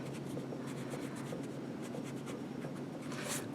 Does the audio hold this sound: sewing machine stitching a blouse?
no